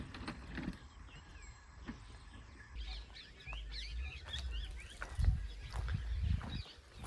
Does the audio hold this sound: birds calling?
yes